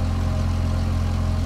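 A motorbike engine humming steadily as a couple rides along a dark street at night, a brief, even, mid-low drone with no change in pitch.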